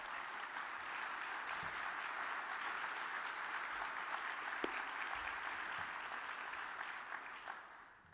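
A large audience at an annual meeting's opening plenary session applauds in a steady, even wash of clapping, soft and distant, tapering off at the very end.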